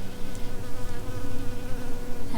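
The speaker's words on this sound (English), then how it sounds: "Happy little bee looking for pollen." A bee buzzes steadily and close among basil and borage plants in a home garden, its continuous drone holding throughout with faint wingbeat wavering and no voices.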